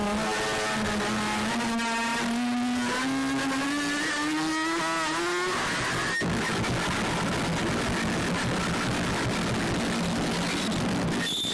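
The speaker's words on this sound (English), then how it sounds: "let's listen to the 8:55 mark and the revving motorbike sound" Revving motorbike in a harsh noise music track, a rising engine whine climbing in pitch for several seconds before breaking into dense, distorted roaring noise that continues loudly to the end.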